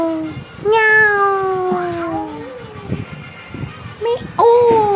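A person's voice imitates a cat, giving a few drawn-out, wavering meows in quick succession close to the listener, mixed with nearby talking.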